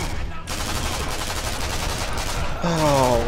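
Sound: machine gun fire in Sniper Elite V2 video game

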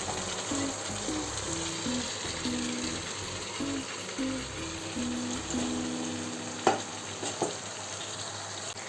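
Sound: cooked beef stirred into sizzling masala gravy

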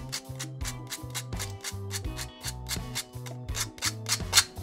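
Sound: sanding a cut edge with sandpaper

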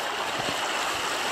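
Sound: river flowing

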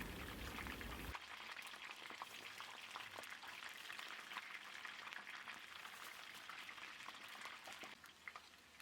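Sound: pastry sheets frying in oil

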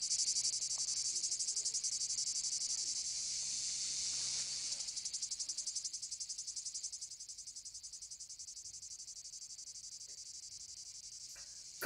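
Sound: cicadas chirping

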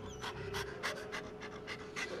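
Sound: dog panting in the video game Deceit 2

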